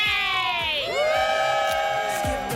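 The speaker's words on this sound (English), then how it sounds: "What a crowd ahead of the holiday." A large, loud outdoor crowd cheers and whoops outside the Today Show in Winston-Salem, North Carolina, ahead of the Fourth of July weekend, with music swelling over the sustained roar.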